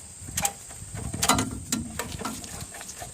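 A ratchet works a 17 mm rear caliper bolt on a 2002 Nissan Maxima, giving a few short bursts of sharp metallic clicking close by, separated by quieter gaps.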